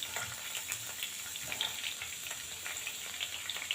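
Finely chopped carrots frying in hot ghee in a wok, a steady crackling sizzle with small pops and occasional stirring scrapes, close and alone.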